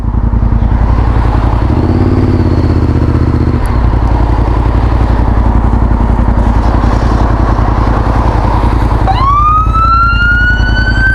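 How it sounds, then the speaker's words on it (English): A wailing ambulance siren rising from behind over the loud, steady drone of a motorcycle engine, the siren swelling in near the end as the emergency vehicle passes close. "There's an ambulance behind me."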